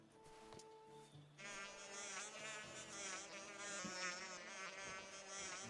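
Bees buzz in the video game Skyward Sword HD, a steady droning hum in several overlapping tones that swells in and holds, loud and close, after a brief quieter tonal stretch.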